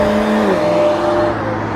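A Toyota Supra with a Hellcat engine swap, turbo trouble noted, rumbles steadily nearby, a loud, continuous engine note with a slight pitch dip partway through, no talking.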